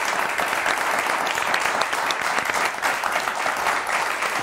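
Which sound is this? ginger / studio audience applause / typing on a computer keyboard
studio audience applause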